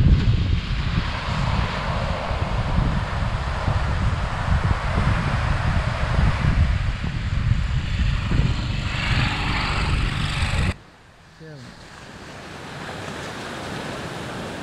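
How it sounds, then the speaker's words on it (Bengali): Sea wind and surf roll steadily along the beach at Cox's Bazar, a loud, dense roar that runs unbroken for about ten seconds before dropping abruptly to a much quieter hush near the end. "শুধু আপনি, সমুদ্রের বাতাস আর সমুদ্রের ঢেউ।"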